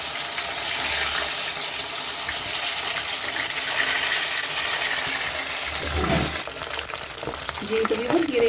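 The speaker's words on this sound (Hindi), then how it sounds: "तो अब हम इनको फ्राई करते हैं मीडियम फ्लेम पे" Chicken butterfly pieces fry steadily in hot oil over a medium flame, a continuous broadband sizzle with a brief stir or shift of the pieces near the end.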